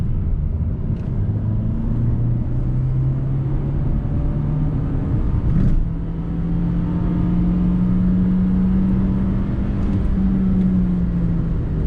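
Renault Captur with the 1.3 TCe turbo petrol engine hums steadily from inside while driving, a continuous low drone whose pitch rises slowly as it pulls, with a few faint bumps along the way.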